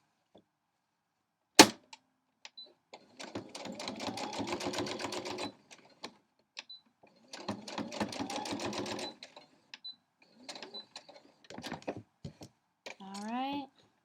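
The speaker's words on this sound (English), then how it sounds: "I just sew it off the edge there." A sewing machine stitches shreds of quilt fabric in two main bursts of rapid, close mechanical chatter, with brief clicks and short runs between them and a faint voice near the end.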